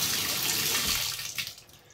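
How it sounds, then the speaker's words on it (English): Water from a Moen Chateau shower trim runs steadily, a broad hissing spray that stays loud and even before easing off slightly near the end, with no talking. "then you can turn on your shower"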